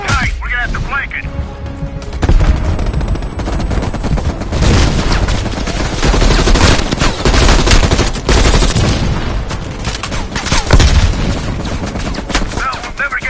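Sustained machine gun fire from a dug-in MG emplacement in Call of Duty Black Ops Cold War, rapid bursts rattling continuously amid a loud battle soundscape.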